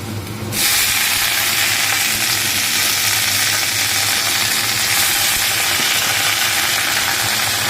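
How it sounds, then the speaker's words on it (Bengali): Capsicum drops into a hot pan and bursts into a loud, close, hissing sizzle that holds steady and strong after a quieter opening moment. "এই ক্যাপসিকামটা দিয়ে দিলাম, দিয়ে এটা একটু ভাজা ভাজা করব"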